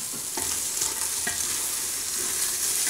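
Onion sautéing in a pan with garlic for quick pressure-cooker rice, a continuous soft sizzle broken by a few scraping stirs of a spoon, close and steady, with no voices.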